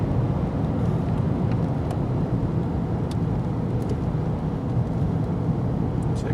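A 1995 Oldsmobile with a 3800 engine drives in second gear, giving a steady low engine and road rumble from inside the car with no talking.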